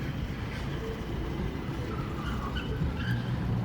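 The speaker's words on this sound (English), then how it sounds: "Here we go, a wee tourist train." A small tourist train rolling along a street in Tenerife, a low steady rumble of wheels and engine close by, mixed with faint street background and no talk.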